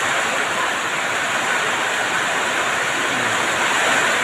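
Heavy rain pouring down in Aloóok, a dense continuous roar of water at steady loudness with no voices over it.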